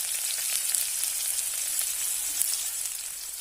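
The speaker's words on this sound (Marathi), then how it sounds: "पहिल्यांदा आपण कांदा टाकून घेऊ." Onion sizzles in hot oil with cumin, cooked in a village kitchen for jhunka or pitla; a continuous, close frying hiss with no talking.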